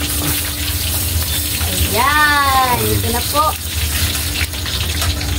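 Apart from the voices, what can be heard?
water poured while cooking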